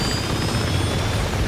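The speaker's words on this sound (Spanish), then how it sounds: "¡Salta, que me está tiroteando el condenado helicóptero!" A helicopter gunship attacking the player in the action game Uncharted 2, a loud constant rotor and engine roar filling the whole moment without breaks, with no speech over it.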